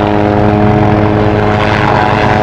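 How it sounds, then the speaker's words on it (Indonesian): A toy military helicopter runs with a loud, steady, close-up motorized whir and buzzing rotor hum, unbroken for the whole stretch. "Wow, helikopter tentara sudah beraksi."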